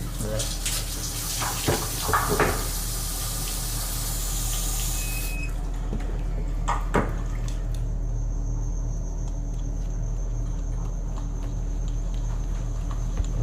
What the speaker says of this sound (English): the bathtub comes on